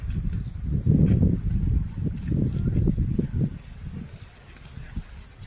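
Strong wind gusts buffet the microphone in heavy, low rumbling bursts that surge and ease, then settle somewhat toward the end.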